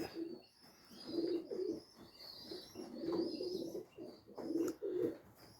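A racing pigeon coos in low, throaty bursts, several soft rolling phrases repeated through the stretch, close by, with faint chirps from other birds behind.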